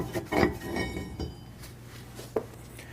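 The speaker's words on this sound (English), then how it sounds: "Then you can slide the rotor off." Light metallic clinks and knocks as a brake rotor is worked and slid off the hub of a Ford Mustang, several scattered taps close by with quiet gaps between.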